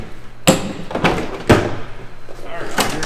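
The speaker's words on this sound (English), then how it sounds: "And the crew entry door." Crew entry door of a Sea King helicopter being worked, giving a few sharp clunks and thuds, one near the start and a heavier one midway, with softer knocks and rattles between.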